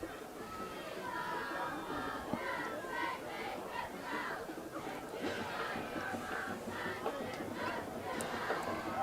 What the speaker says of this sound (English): Well, that's got the crowd buzzing now.